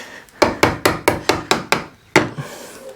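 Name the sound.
cheap chisel shaving wood on shed door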